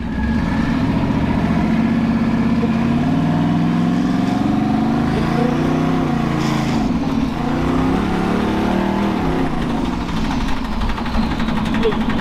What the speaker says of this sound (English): Seems to be running, so we're gonna just run it up the road.